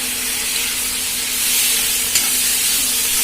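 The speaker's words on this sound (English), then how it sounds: "Let's mix it up well." Chopped tomatoes being stirred into cooked vegetables for pav bhaji, a loud, steady hissing sizzle with soft stirring, close and continuous, no talking.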